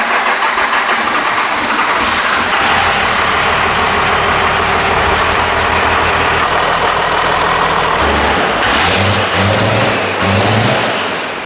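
A diesel engine idles after long cranking, a loud, close, heavy rumble with an uneven throb and a rough, near-popping pulse that changes character toward the end.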